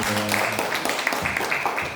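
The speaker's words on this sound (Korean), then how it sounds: "시간까지 딱 지켜주신 교수님께 다시 한번 박수." An audience at a lecture on labour policy applauds the professor, a fairly dense round of clapping with some voices mixed in beneath it.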